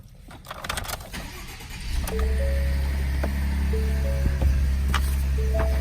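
A 2015 Ford F-150 SuperCab pickup with low original mileage cranks briefly and fires up, then settles into a steady, close, loud idle that continues to the end with a few faint clicks over it.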